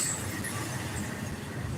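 A passing train gives off a steady low rumble with faint high squeal, continuous and moderately loud throughout with no talk.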